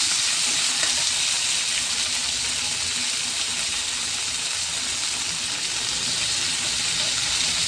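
Steady, loud sizzling of fried onion and freshly added tomato in hot oil for a watermelon rind curry, an even hiss that runs unbroken and close with no talking.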